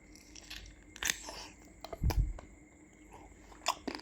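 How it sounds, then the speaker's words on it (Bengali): Crunchy chewing of over-fried food, several crisp bites and crunches in uneven bursts, close and fairly loud, with faint voice-like sounds in the background. "মানে কুড়মুড় করে খাই।"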